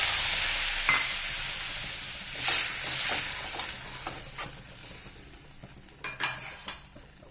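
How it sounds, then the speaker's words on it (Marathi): Cooked field beans tipped into a pan of curry with oil-roasted chutney, followed by scattered scraping stirs and clinks of a spoon against the pan over a steady low sizzle, with no talking. "तर आता शिजलेले पावटा टाकून घेते"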